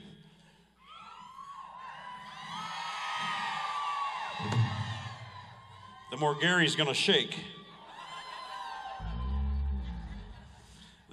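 Women in the audience at a Texas Elvis tribute show scream and cheer in high, sustained bursts, rising sharply near the middle, while a performer talks over the crowd.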